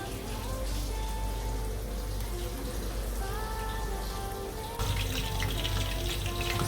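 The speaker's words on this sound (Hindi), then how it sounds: "तो चलें चिकन कबाब को फ्राई कर लेते हैं। इसको डीप फ्राई करके इस तरह बेहतरीन कलर आ जाएगा," Chicken kebabs deep frying in hot oil, a dense steady sizzle and bubbling that runs unbroken throughout, close and fairly loud, growing slightly brighter near the end, with no talking.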